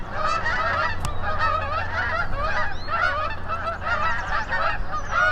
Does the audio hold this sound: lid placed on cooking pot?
no